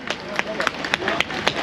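A crowd at the Taşlıoba Kurtdüzü festival in Trabzon breaks into scattered, uneven clapping, sharp claps standing out close by over a murmur of voices.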